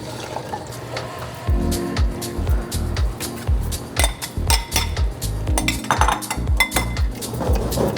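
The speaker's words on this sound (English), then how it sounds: "And now we're gonna add our avgolemono." Avgolemono sauce is added to a pot of Greek lamb stew off the heat and stirred, with close clinks and scrapes of a utensil against the pot and a splash of liquid.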